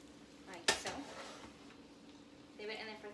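A metal pan holding steak clanks sharply once as it goes into a 425-degree oven, followed by softer rattles and a brief scrape of cookware. The kitchen is otherwise fairly quiet.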